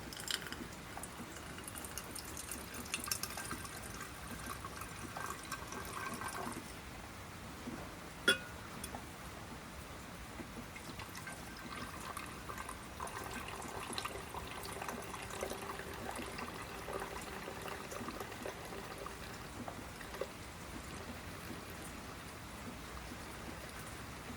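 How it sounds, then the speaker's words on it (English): Liquid is poured slowly from one beaker into another down to a settled powder during gold refining of blank circuit boards, a faint steady trickle with one brief glass clink partway through. "So we're going to slowly pour this out until we get down to that powder."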